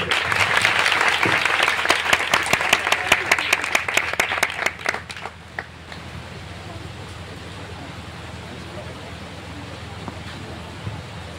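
Loud, dense applause from an audience at a youth church gathering for about five seconds, tailing off into scattered claps and then a quieter room murmur.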